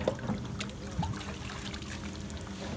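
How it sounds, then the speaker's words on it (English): Lake water trickles through a filter, a soft continuous dribble with a few light splashes, faint and close, with no talking. "the water should be passing through your filter just like this"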